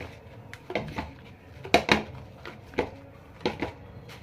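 Gulab jamun dough being mixed by hand in a pan, with scattered sharp clinks and soft knocks against the metal at an uneven rhythm, close and fairly quiet, with no talking.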